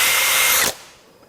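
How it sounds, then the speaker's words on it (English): A Kobalt XTR hammer drill whines loudly and steadily, then cuts out abruptly as its kickback control stops it on binding, leaving a brief fading spin-down and near silence. "this drill has kickback control, and we can simulate it"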